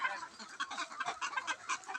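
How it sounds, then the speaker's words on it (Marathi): A flock of poultry-farm chickens feeding on leftover cooked rice gives off a dense, steady chatter of overlapping clucks, close and continuous with no pauses. "आणि त्या कोंबड्या खात आहेत"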